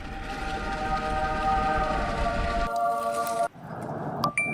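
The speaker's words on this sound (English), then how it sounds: "let's put a track through it and send the train inside" A train runs on a track through a cave tunnel lined with glowing crystals, with a steady loud rumble and sustained whistle-like tones that cut off sharply partway, then fade into a quieter, thinner tail.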